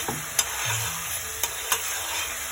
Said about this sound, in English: So here we have it, a nice pot with some hot oil. Half the onion goes into that, and half the garlic goes into that.